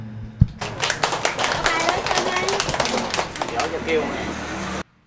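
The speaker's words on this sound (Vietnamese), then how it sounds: "Xin toàn thể hội chúng cúng dường bằng một tràng pháo tay thật lớn." An audience at a Buddhist wedding ceremony in Ca Mau breaks into dense, sustained applause, many hands clapping loudly together for several seconds before it cuts off abruptly.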